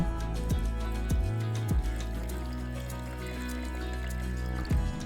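Blended pandan leaves and cold water strained through a sieve, a steady pouring trickle of liquid running for several seconds at close range with no talk.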